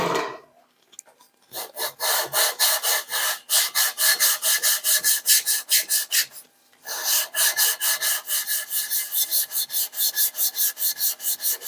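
A DRZ400E engine part is rubbed by hand against an abrasive surface in a steady back-and-forth rasp, loud and close, with rhythmic strokes broken by one short pause.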